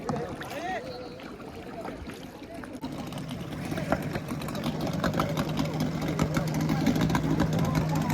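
An engine-powered tourist boat on the water at Kondura near Khavane, where kayaks also run, gives a steady low motor hum that grows slightly louder over time beneath ongoing conversation and outdoor background noise.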